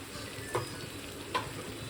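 Raw mung dal cooking in a pan gives a low steady sizzle, broken by two short scraping stirs about a second apart.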